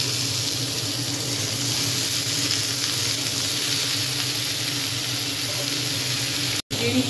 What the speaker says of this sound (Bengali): এবার আলুটা তুলে দিচ্ছি।